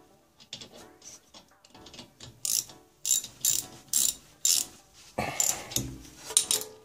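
Brake caliper screws on a Mercedes being tightened with a ratchet wrench, producing close, uneven runs of metallic ratchet clicks and clanks in short bursts, with no talking.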